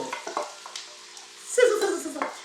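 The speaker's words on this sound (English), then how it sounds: "Sizzle." Chopped onion hitting hot bacon grease in a pot for potato bacon soup, a quiet stir followed by a sudden bright sizzle that swells and then settles into a steady frying hiss, close up.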